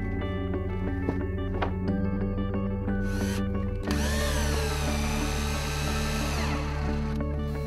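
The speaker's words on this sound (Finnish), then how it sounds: "Käyntisilta ja päätyelementti ruuvataan toisiinsa kiinni." Power driver screwing plastic pontoon dock elements together, a walkway joined to an end element; a steady mechanical whir runs throughout, rising into a higher revving whine midway with faint tonal hum underneath.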